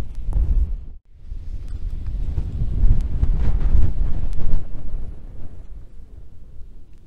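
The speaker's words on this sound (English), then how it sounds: "This general billowing and buffeting from the wind has been going on all night" Gusty wind on the Quiraing on Skye buffets and billows a Lanshan 2 Pro lightweight tent at a wild camp, a loud, rumbling, uneven roar that swells and eases in waves with no voices.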